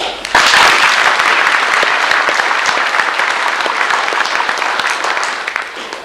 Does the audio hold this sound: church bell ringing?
no